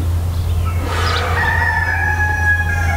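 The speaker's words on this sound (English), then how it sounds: "you know how the sun's coming because the roosters are crowing" A rooster crows at sunrise in a single drawn-out call, moderately distant, over a constant low hum and outdoor background noise.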